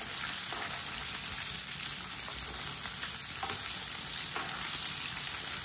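Chicken pieces frying steadily in a pan of oil, a dense continuous close sizzle with occasional faint clicks of stirring, no voices.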